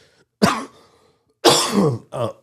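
Two rough coughing bursts with a brief throat clear after a pause, close to the mic and loud, with nothing else around them.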